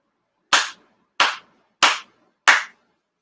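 Four sharp ritual handclaps ring out at an even pace during a monthly ceremony at a Konko shrine for Tenchi Kane no Kami, each one crisp and close, with silence between.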